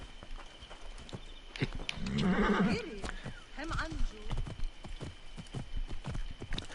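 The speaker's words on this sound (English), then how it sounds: "Let's get a horse." A horse in Assassin's Creed Origins neighs loudly and close, followed by clip-clopping hooves, with a person talking over the sounds.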